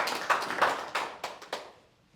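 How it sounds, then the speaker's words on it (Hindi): Applause from a small group, a handful of sharp, uneven claps that quickly fade out, fairly close and quiet. "पहले तो जोरदार तालियां हो जाए"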